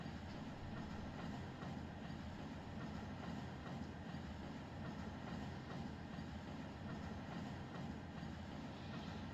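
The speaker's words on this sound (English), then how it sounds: "I got 3 supply trains coming in" A supply train rolling through the Waycross yard in the Run8 train simulator, a steady low rumble with faint rail clatter that stays constant throughout, no voices.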